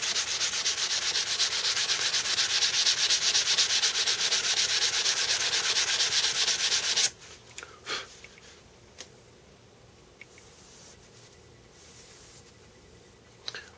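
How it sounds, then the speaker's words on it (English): An elk bone knife is sanded by hand with steady, continuous abrasive rubbing for about seven seconds, then the scraping stops and only a few faint scattered handling taps and rustles follow in a quiet room. "Give it a good sanding with it, and then we'll go over to like steel wool and buff it up."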